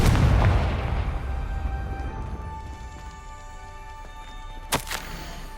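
In the Hogwarts Legacy video game, a Confringo blasting curse explodes as a loud, booming blast that decays into a long rumbling tail, followed by a sharp smaller pop near the end.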